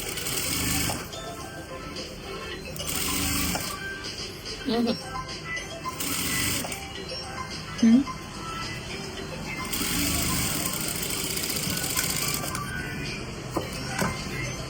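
A sewing machine stitches along a folded cloth edge in repeated bursts of rapid mechanical clatter, stopping and starting several times at close range, with brief pauses and small handling sounds between runs.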